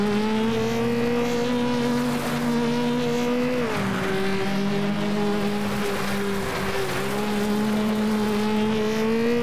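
Race car engines in the FlatOut racing video game, a loud, steady droning hum with a sustained engine tone that dips briefly and recovers, continuous throughout with no talk.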